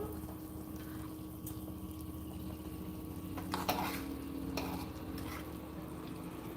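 A pot of Haitian rice with coconut milk and shrimp simmers at a soft boil, a faint steady bubbling hiss with a few louder bursts and clinks near the middle, quiet and without speech.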